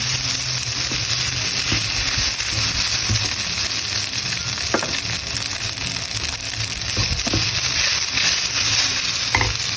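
An egg frying in a pan gives a steady, loud, close sizzle that holds throughout, with occasional small crackles and light scraping.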